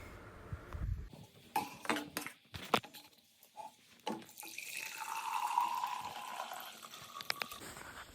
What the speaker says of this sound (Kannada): ನಾನು ಜಿಮ್ ಬಾಟ್ಲಿಗೆ ನೀರು ಹಿಡ್ಕೊಂಡು